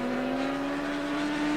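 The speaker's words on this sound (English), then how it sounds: "Superb motorcycle racing." Racing motorcycles at Oran Park in 1984 hold a steady, loud engine drone with a sustained high tone throughout, no voices heard.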